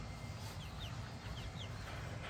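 Chickens clucking softly from inside a large dog kennel at night, a few short calls scattered over a steady low rumble of background noise, with no one talking.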